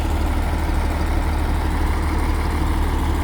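A farm tractor's diesel engine idles close by, a loud, steady low throb with an even knocking pulse and no voices.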